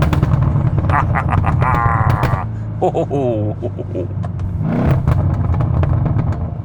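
The 5.5-litre V8 engine of a Mercedes-Benz E 63 S AMG revs hard and drops back, its exhaust rumbling and crackling up close with rising and falling pitch over several seconds.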